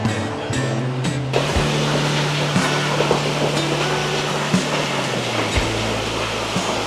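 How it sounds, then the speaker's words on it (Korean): A mountain valley stream with two- and three-tiered pools rushes steadily and loudly up close, with a faint low hum underneath and no voices. "물소리 시원하게 들리는 이런 2단, 3단 호들이 몇 개가 있는지 모르겠어"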